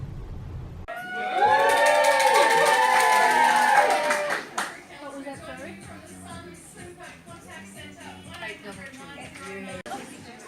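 Studio audience at a telethon clapping and cheering loudly for about three seconds, with whoops over the applause, then fading into scattered voices and crowd chatter.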